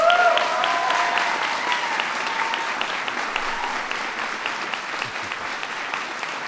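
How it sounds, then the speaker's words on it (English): Audience applause at a White House ceremony honoring the National Teacher of the Year and finalists, greeting Education Secretary Arne Duncan; a voice trails off at the start, then broad, sustained clapping from a large crowd fills the room at steady loudness. "Give him a big round of applause"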